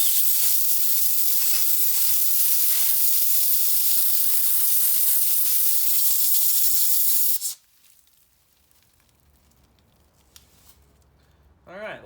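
A DIY sandblaster blasts sand onto grimy metal with a loud, steady hiss that cuts off sharply, then goes quiet with faint sand trickling, and a voice speaks briefly at the end.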